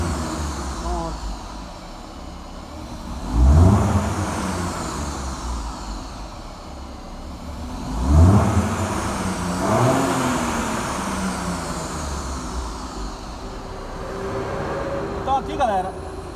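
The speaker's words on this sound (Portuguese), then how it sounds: "a gente vai funcionar o carro e bora acelerar lá e ver se resolveu o problema do carro" A car engine idles and revs after a MAP sensor repair for fault P0107. Two rising revs build and fall away, with the engine running steadily between them.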